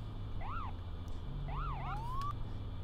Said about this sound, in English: I wish I would get rid of that siren noise.